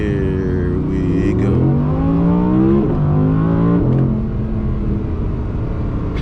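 A 2022 Audi R8 V10 Performance engine revs up through rising gear pulls, a smooth climbing exhaust note that shifts and climbs again, loud and close from inside the car, with a person talking over it.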